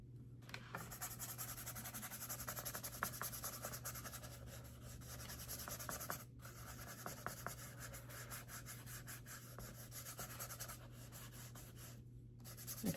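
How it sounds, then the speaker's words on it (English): A paintbrush spreads Sherwin-Williams Green Sprout paint across paper in a steady, close, soft scratchy rubbing that continues for the whole stretch, with a constant low hum underneath. "I just love putting the paint on the paper."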